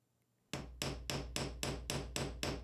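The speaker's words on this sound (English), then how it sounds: "As I hammer, it distorts the edge of the circle" A texturing hammer strikes a copper disc eight times in a steady, even rhythm, each blow sharp and close with a brief ringing decay, after a moment of quiet.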